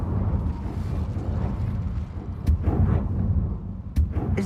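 An Incendio fire spell cast in a wizarding video game produces a broad, roaring whoosh of flame that holds steady for several seconds. A couple of short pops and crackles break through near the end.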